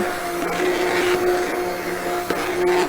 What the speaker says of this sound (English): I'm using my immersion blender to blend it up a little bit